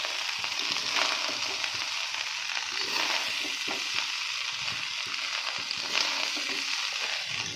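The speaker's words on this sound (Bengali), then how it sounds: "গোটা গরম মশলা দিয়ে ফ্রাইড রাইসটা ভাজা হচ্ছে।" Fried rice frying in a pan with whole garam masala, a steady, dense sizzle with faint stirring scrapes mixed in, continuous and fairly close, with no talk.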